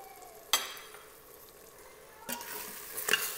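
Coriander, mint and yogurt sautéing in an Instant Pot, a soft steady sizzle broken by a few sharp scraping stirs early and late, close by with no talking.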